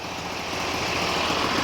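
Briggs & Stratton 20HP V-twin engine running steadily on a Sears loader in snow, a close, continuous, rough mechanical drone with no talk.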